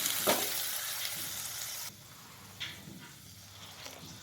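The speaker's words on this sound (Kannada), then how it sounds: "ಓಕೆ, ಮಸಾಲೆ ರುಬ್ಕೊಂಡಿದ್ದು ಆ್ಯಡ್ ಮಾಡ್ತಾಯಿದ್ದೀನಿ" Ground masala paste hitting hot oil in a pan for a tondekai (ivy gourd) gravy, giving a loud broadband sizzle that drops sharply to a softer frying crackle partway through, with a few brief stirring scrapes.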